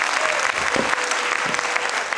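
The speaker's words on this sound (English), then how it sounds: "Let us give them a round of applause." Audience applause at a playschool annual day event, a dense, steady wash of many hands clapping that fills the whole moment at close range, with faint voices mixed in underneath.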